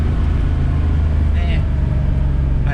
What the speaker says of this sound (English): All right, let's try a little Rev Match.